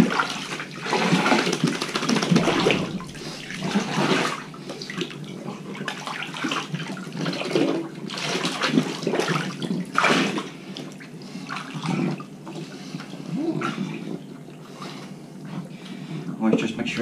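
Running water splashes continuously as it rinses a pug during a bath, close and fairly loud, with a voice talking intermittently over it.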